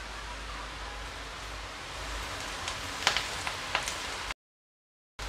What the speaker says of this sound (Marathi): बाहेर छान पाऊस पडतोय